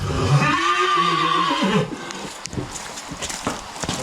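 A Belgian draft horse gives one loud, close whinny that wavers and falls over about two seconds, followed by quieter rustling and a few soft knocks.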